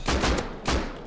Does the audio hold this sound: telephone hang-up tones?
no